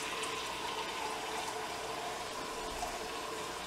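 Cold water runs steadily from a kitchen tap, a faint, even hiss and splash heard alone for a few seconds.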